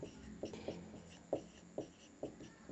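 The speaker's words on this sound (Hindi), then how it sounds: "तो लिखेंगे पाइथागोरस प्रमेय से" Pen writing out a maths solution on paper, soft scratchy strokes with irregular tapping accents, close and quiet, with no speech over it.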